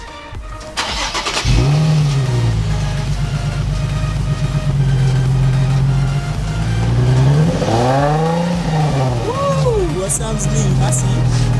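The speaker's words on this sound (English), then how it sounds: "Guys, you're about to hear the exhaust. This is stock." A car with its stock factory exhaust starts up and idles with a deep rumble, then revs twice in rising and falling sweeps, loud and close.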